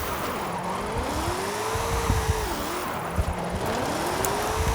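A car drifting in Forza Horizon 5, its engine note rising and falling through repeated gear changes between second and third, with tire noise running steadily throughout and no talk.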